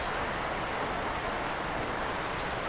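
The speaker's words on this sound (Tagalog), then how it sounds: "ngayon umulan kung kailan aalis" Steady rain pours down in a dense, even hiss, continuous and fairly loud with no voices over it.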